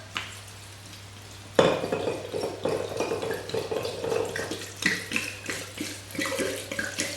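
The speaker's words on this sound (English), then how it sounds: "we're going to pour in our 70 centilitres of gin over the top" Gin is poured over apples, blackberries and sugar in a jar, a steady close liquid splash and trickle that starts suddenly and runs on with small gurgling bursts.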